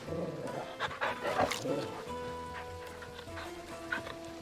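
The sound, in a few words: dog sounds in the video game Final Fantasy 16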